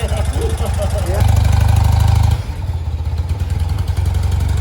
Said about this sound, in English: That bike's never ran so good. Yeah. It does sound strong.